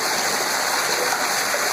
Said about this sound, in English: If I just hang out in front of this stream here.